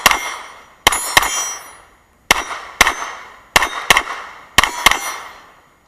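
A CZ 75 B single-action pistol fires at targets 30 yards away, with sharp, loud reports in pairs and singles, each followed by a ringing metallic clang that decays quickly, separated by short silences.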